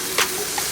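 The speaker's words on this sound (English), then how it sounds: "I like to get all sides of the burger cooked." A jalapeño and cheese stuffed turkey burger sizzles in a pan with a steady close hiss and a couple of brief scraping bumps, no voices.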